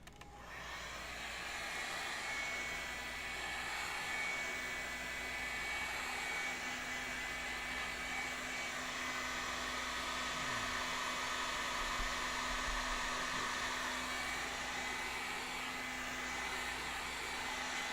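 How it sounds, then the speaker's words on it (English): A heat gun blows a steady, loud whooshing hiss, running continuously without pause while heating craft foam for a costume helmet build. "Got my heat gun here. We're going to heat up this foam."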